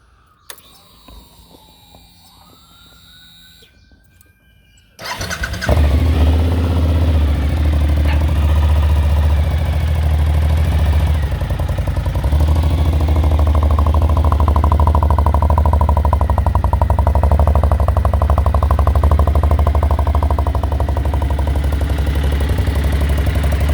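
A 2008 Suzuki V-Strom motorcycle with a shortened exhaust tube starts after a few seconds of quiet, then settles into a loud, deep, steady rumbling idle up close.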